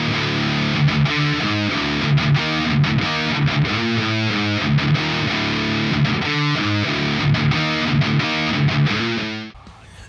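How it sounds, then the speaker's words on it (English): An electric guitar through a Pigtone PP-24 British-style distortion pedal plays chords and riffs continuously, heavily distorted, thick and saturated, loud and close, cutting off abruptly at the end. "this is a distortion pedal"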